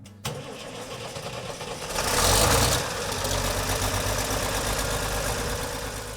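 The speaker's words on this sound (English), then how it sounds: "to visit my friend Danny Anderson to check out a pair of International 1206 prototypes" An International 1206 prototype tractor engine idles close by in a steady, low rumble, with a brief swell in revs partway through before it settles back to an even idle.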